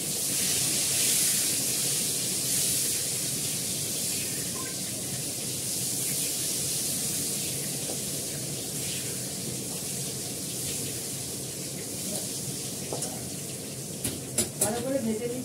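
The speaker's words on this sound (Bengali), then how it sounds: "ভালো করে আলুটাকে লাল করে ভাজবো" Potatoes frying in a pan of oil, a steady soft sizzle and hiss running throughout, with a few light utensil clicks near the end and a voice speaking over it.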